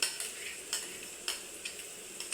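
A spatula stirs and scrapes a pan of ground peanut, cumin and tamarind masala as it fries on low heat, giving a light, repeated clatter of strokes about every half second over a faint sizzle.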